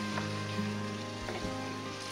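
Boiled chickpeas frying in masala for dhaba-style chana, a steady close sizzle with a soft crackling hiss and a couple of light stirring knocks, with no talk.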